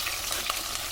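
Fish pieces frying in bubbling hot oil for a village-style fish dish produce a close, continuous crackling sizzle with small popping bursts throughout.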